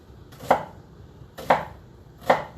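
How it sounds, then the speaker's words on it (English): A knife chops through an onion on a cutting board in three sharp, evenly spaced thuds, each a crisp close knock that stands alone against quiet room tone without any voices. "Cutting this onion in half."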